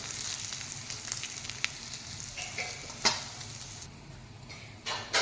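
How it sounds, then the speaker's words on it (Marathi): Thalipeeth frying in oil on a pan after the lid comes off, a soft, steady sizzle close by, broken by a few light clicks and clatters of the pan and utensil. "आता हे झाकण काढूया आणि थालीपीठ या बाजूने भाजून"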